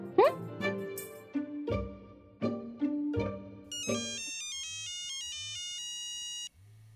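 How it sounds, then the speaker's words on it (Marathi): A phone ringtone plays a bright electronic melody for several seconds, preceded by a few short plucked notes, then stops abruptly. "बबन कशाला फोन करते?"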